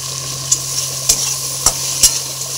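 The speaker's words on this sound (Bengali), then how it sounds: "এটা ভালো করে আমি ভেজে নেব।" Chopped garlic and onion frying in hot oil for a Bengali fish-oil curry with eggplant and potato, a steady close sizzle broken by four sharp scrapes of a spatula stirring the pan at even intervals, with no voices.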